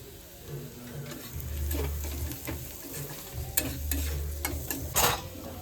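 Ginger fries in a pan with salt and spices, a steady close sizzle with the scrape and clatter of stirring running throughout.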